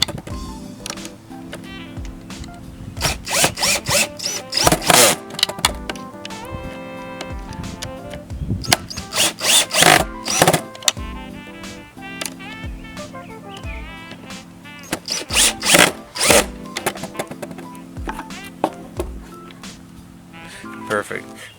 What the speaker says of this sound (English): So I'm gonna put the drill to tighten.